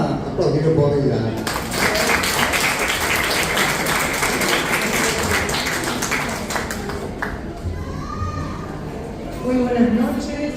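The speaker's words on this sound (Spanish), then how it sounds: "Vamos a aplaudir por Vidalia." Audience applause at a tribute during the Asunción International Book Fair: sustained, dense clapping from a hall full of people, with voices audible before it starts and as it fades.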